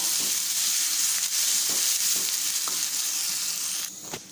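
Finely cut green chilli and ginger fry in a pan with a steady, close hiss of sizzling oil, while occasional soft scrapes of a stirring spoon come through before the sizzle drops away near the end.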